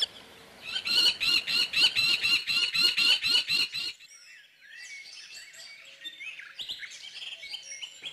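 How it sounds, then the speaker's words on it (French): Birds at a nature reserve: a loud, rapid run of repeated chirping notes for a few seconds, then quieter, more varied twittering and song continuing in the background, with no talking. "Alors les oiseaux le savent bien et ils se réfugient tous chez nous."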